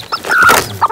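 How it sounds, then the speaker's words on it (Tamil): A small chick of a native country hen peeps loudly and close up, a quick series of high chirps within a second. "இந்த கோழி குஞ்சு வந்து பார்த்திங்கன்னா இங்கே கத்திக்கிட்டே இருக்கும்"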